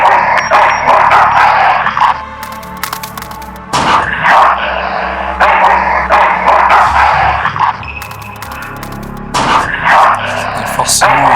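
A dog barks in the remastered adventure game Full Throttle, several sharp yapping bursts in rhythmic clusters mixed with game effects, while someone talks over it.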